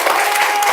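Classroom applause for a student group after their chemistry practicum presentation, a short steady burst of many hands clapping together with no pause.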